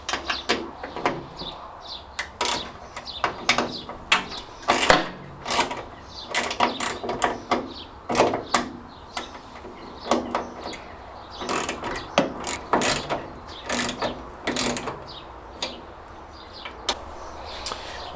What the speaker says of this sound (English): They are 10mm bolts, and what we need to do is remove those.